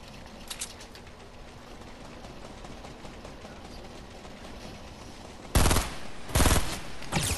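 Bursts of automatic gunfire from a minigun in a battle-royale shooter game, two loud rapid volleys near the end after a quieter stretch of distant game ambience.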